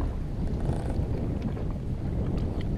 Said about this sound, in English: As you can see, the wind's got up quite a bit.